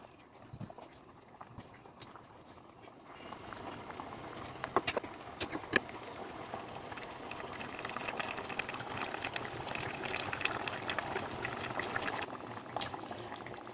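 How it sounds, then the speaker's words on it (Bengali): Chitol fish curry (chitol kalia) simmering on low heat in a pan, with a continuous soft bubbling and popping that grows slightly busier after the first few seconds, close and alone. "মাছগুলো অ্যাড করে লো হিটে আমি এটা 10 মিনিট রান্না করব"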